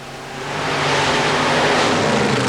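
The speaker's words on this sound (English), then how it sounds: "This is called the Mud Shark, featuring a 525 cubic inch Keith Black Hemi." The Mud Shark, a 1964 Corvette funny car with a 525 cubic inch Keith Black Hemi, roars up to full power as it races a cut tire mud track, a loud sustained engine blast.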